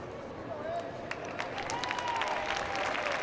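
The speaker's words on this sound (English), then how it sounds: "And they are clapping it up." Crowd at a high school state football game claps for an injured player getting up, a spread-out, distant-sounding applause under a commentator's voice with faint whistle-like tones.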